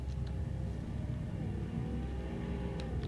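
A steady car engine drone with low rumble and mid-range whir, continuous and fairly loud, from a vehicle cruising in the driving game Greenville, with no talking.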